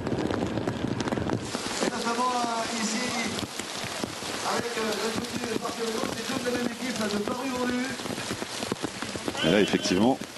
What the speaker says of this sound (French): il pleut des chiens et des chats